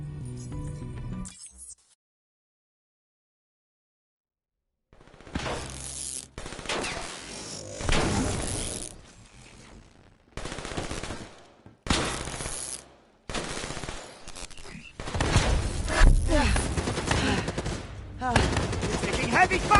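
Heavy gunfire in the Call of Duty 3 campaign: dense bursts of automatic and rifle fire in loud volleys after a brief silence, with explosive thumps and voices shouting over the combat.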